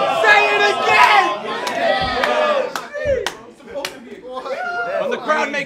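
Rap battle crowd shouting and chanting in bursts, loud and close, with sharp claps or slaps punctuating a rapper's voice and crowd chatter.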